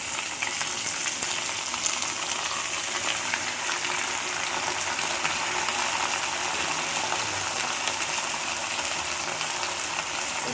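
Small pieces of country chicken fry in a pan with onions, giving a steady, close hiss and sizzle that continues throughout with little variation.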